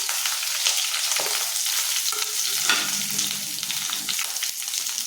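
About twenty shallots and torn dried red chillies sizzle and crackle in hot oil for a Chettinad-style country chicken fry, a loud, steady hiss with spatters and occasional stirring scrapes, no talk.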